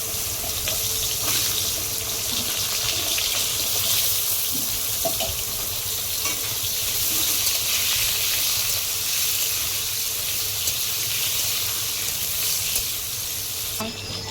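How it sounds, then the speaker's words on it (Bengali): Pointed gourd pieces fry in leftover fish-frying oil for a homestyle Bengali fish curry, giving a loud, steady, continuous sizzle throughout with faint stirring underneath and no talking. "মাছ ভাজার তেলে আমি আগে পটলগুলো ভেজে নেব।"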